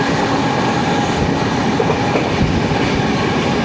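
A Jan Shatabdi express train crosses the bridge over Ashtamudi lake in Kerala, its loud, continuous rumble and rhythmic wheel clatter heard from on board.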